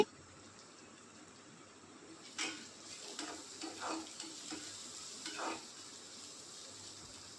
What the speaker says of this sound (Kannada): 1 ನಿಮಿಷ ಇದನ್ನು ಫ್ರೈ ಮಾಡಿಕೊಳ್ಳಬೇಕು, ಜಾಸ್ತಿ ಬೇಡ, 1 ನಿಮಿಷ ಸಾಕು